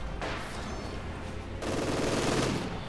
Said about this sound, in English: Sniper shots there from the house.